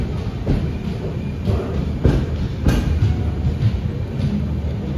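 Night King superfast express train, the Belagavi to Bengaluru service, running through Londa Junction station without stopping, giving a steady loud rumble with rhythmic thumps from the wheels over the rail joints, close by and continuous.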